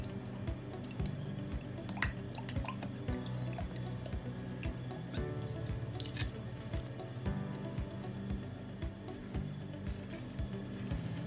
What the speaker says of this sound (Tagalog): Sunod naman, lagyan ko lang siya ng ketchup.